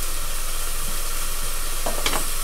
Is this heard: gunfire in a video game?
no